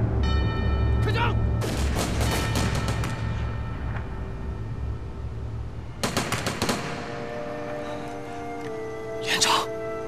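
Rapid automatic gunfire erupts in several loud bursts near a riverside execution ground during a war drama set on the Xiang River, with the crackling volleys separated by short gaps.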